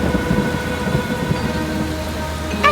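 Heavy rain pours steadily with rumbling thunder in an animated fairy tale, a loud continuous downpour with a sharp crack near the end and no voices.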